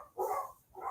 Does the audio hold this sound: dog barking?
yes